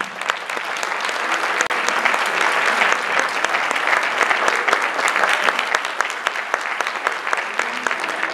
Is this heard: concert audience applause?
yes